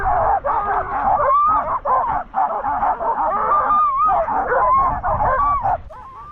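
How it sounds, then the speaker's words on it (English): Excited sled dogs bark, yip and whimper continuously at close range as their leads are attached in minus-ten-degree cold, a dense overlapping chorus of many dogs. "It became pretty obvious once the leads were getting attached that the dogs were excited to get going."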